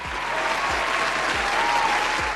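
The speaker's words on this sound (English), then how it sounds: "Give yourself a round of applause." An audience claps together in steady, sustained applause, a dense wash of hand claps with a few low thumps beneath, fairly close and even throughout.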